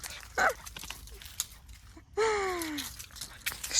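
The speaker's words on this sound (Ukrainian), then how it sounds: "Тут до нас прибігла собака." A dog comes up in an orange orchard in Spain, giving a short yelp followed by a longer rising-then-falling whine, close to the microphone over quiet outdoor background.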